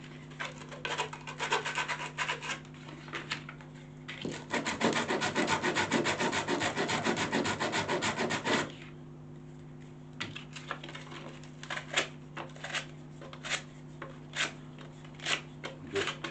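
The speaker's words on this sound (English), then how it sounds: "After cutting it to length, I'm going to have a bit of raggy edges, so a bit of sandpaper." Sandpaper rubs over the rough, raggy cut edges of a freshly cut piece in a quiet workshop, a few light scrapes, then a sustained burst of brisk back-and-forth sanding, then more scattered strokes.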